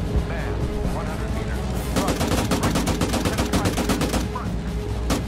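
Gunfire in the video game Arma 3, set in a 1944 battle, crackles in rapid bursts of shots over a constant rumbling battle background, loud and close throughout.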